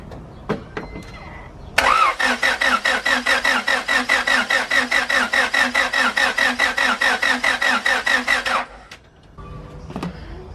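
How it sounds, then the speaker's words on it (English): A turbocharged Honda Civic wagon with a failed oil pump cranks on the starter for about seven seconds, a rapid, even, rhythmic chugging that stops abruptly, with a few clicks before and after. "I'm going to go ahead and try to crank this car"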